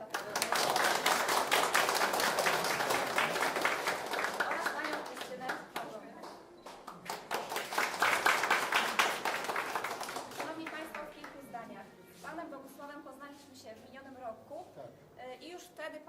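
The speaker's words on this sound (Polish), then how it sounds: "Wielkie brawa" Applause from the audience at the opening of a painting exhibition at a county culture centre gallery, with dense, sustained clapping for roughly ten seconds that then thins into scattered claps and voices.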